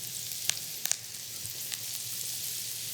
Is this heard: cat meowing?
no